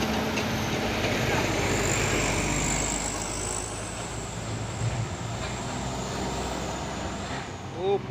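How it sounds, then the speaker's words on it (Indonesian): A heavy Hino 500 trailer truck carrying a container drones and labors steadily as it passes nearby climbing uphill, with a brief squeal near the end. "Masuk lagi satu nih truk trailer Hino 500 membawa kontainer"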